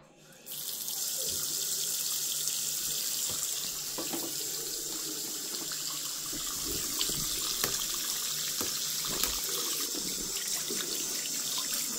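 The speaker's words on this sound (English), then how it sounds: "It's washing out the coffee filter." Tap water runs steadily into a sink while a coffee filter is rinsed out beneath it, a continuous close splashing flow that starts within the first second and carries on alone without any talk.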